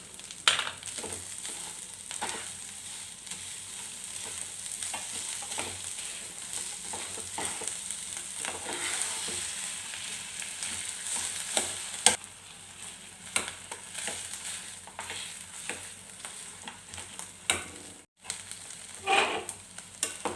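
Potato sheera sautés softly in ghee as jaggery is added and stirred in, a low sizzle punctuated by scattered spoon scrapes and clinks against the pan.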